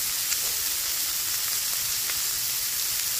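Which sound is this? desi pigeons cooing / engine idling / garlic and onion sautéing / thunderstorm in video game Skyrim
garlic and onion sautéing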